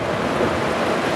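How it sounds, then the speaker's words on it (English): Heavy rain pours steadily onto a car during a storm with a tornado warning, a dense, even hiss of water drumming on the roof and glass that holds at one level throughout. "It's pouring rain."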